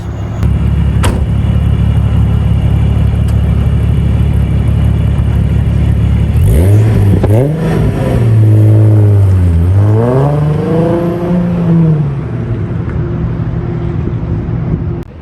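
A VW Mk1 Golf with a supercharged VR6 engine drives past, first as a loud steady drone, then revs rise and fall in sweeping surges close by, with no talking.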